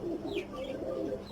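Flying pigeons, a cross of teddy and golden birds, coo softly in a low, throaty rhythm, several bubbling calls close together at moderate volume with no speech.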